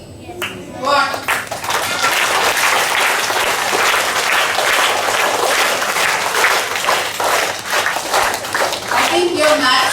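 A school assembly crowd of children breaks into loud, sustained applause, dense overlapping claps lasting several seconds before tapering off, with a few voices audible at the edges.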